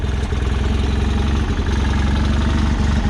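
A John Deere 318 lawn tractor engine with a dirty carburetor idles roughly, a loud, continuous low throbbing with an uneven, pulsing rhythm and no talk over it.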